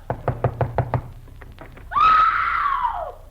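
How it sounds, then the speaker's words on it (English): Six sharp knocks rap out on a house door in a quick, even series, followed by a loud, sustained high-pitched shriek that sweeps down in pitch, with no talking. "Go ahead and knock."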